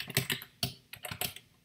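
Quick, irregular clicks of fingers typing on a computer keyboard, close and clear with no talking.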